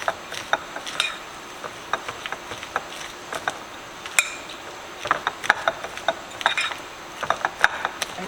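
A spoon works through a bowl of spinach stuffing with minced garlic and mozzarella, giving repeated soft scraping clicks and wet taps in an irregular rhythm, fairly close and moderately quiet.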